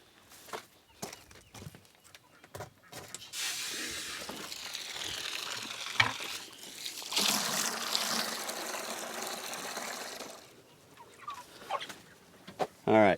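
Chickens and a turkey fowl in a backyard coop cluck and gobble off and on, a dense stretch of bird noise with some splashing water, fairly close and continuous through most of the scene.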